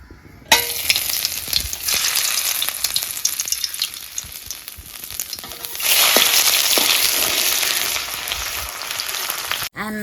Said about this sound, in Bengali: তেল গরম হয়ে গেছে আদা কুচোরা দিয়ে দেব